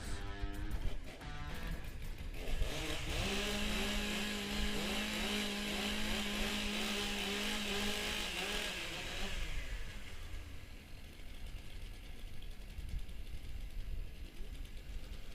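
Chainsaws warm up at a STIHL timbersports competition, engines revving and rattling together with a rising whine and gear-like buzz, then dropping back to a rough idle amid crowd and arena noise.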